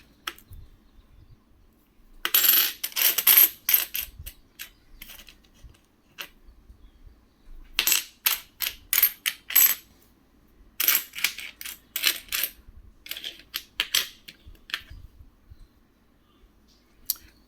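Indian one-rupee coins from the 1975 Mumbai mint are set down one by one, giving sharp metallic clicks and taps in short bursts separated by quiet gaps, close up and with no talking.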